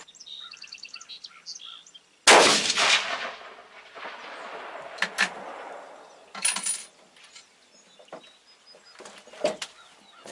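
A single loud, sharp rifle report from a 6.5-284 Savage Model 12 cracks out near the start and decays with echo, followed by scattered clinks and small knocks, with a faint bird chirping before the shot.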